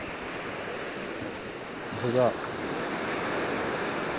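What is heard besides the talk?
waves at Cold Knap Beach, Barry, Wales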